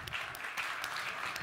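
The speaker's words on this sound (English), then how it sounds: "a big hand of applause" An audience at a business keynote event in Zurich applauds to welcome Klöckner CEO Gisbert Rühl, a faint, steady rustle of distant clapping from a crowd in a large hall.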